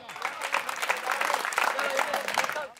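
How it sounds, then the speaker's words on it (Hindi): A live audience bursts into loud, dense clapping during a Hindi comedy performance, sustained for a few seconds with crowd voices mixed in. "जरा ताली वाली जोर से ठोको"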